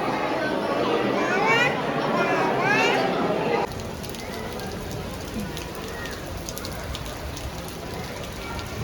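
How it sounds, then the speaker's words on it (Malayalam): Steady rain falls outside a temple, a broad continuous hiss of drops on surfaces; during the first few seconds children's voices and chatter rise over it, after which the rain continues alone at an even level. "ചെറിയ മഴയുള്ളൂ."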